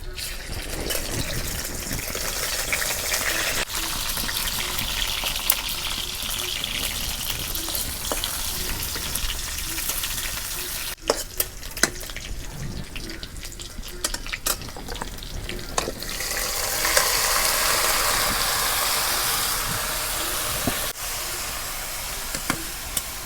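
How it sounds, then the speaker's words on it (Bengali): Chopped onion frying in hot oil in a wok, with a continuous loud sizzle and occasional stirring scrapes over about twenty seconds, and a brief surge of hissing partway through. "পেঁয়াজ কুচি দিয়ে দিই"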